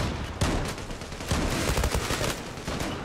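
Rapid gunfire bursts from an AUG A3 assault rifle in the online shooter Zula, loud, sharp cracks clustered in quick volleys over roughly three seconds with no talk.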